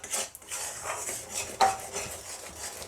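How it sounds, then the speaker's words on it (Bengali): Jaggery and peanut mixture for patali is rubbed and stirred in a pan off the heat, giving close scraping strokes with a sharp knock near the middle, without any talk. "এখন খানিকটা আমি এরকম ঘষতে থাকবো। 1 মিনিট মতো একটু ঘষবো।"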